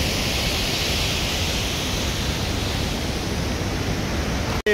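Heavy water rushing at Maneri Dam, a loud unbroken roar of broad noise filling the scene close by, steady throughout before a sudden brief cut near the end.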